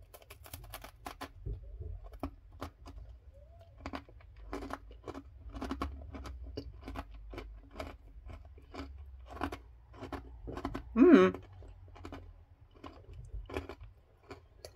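Close, steady crunching of dry Gullón Vital Grain yogurt and berries oat biscuits being chewed, a rhythmic series of crisp bites with one louder crunch near the end, no talking.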